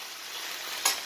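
Pressure-cooker-boiled chicken for a low-oil chicken curry hits a hot pan with a steady, bright sizzle, rising into a brief louder hiss just before the end.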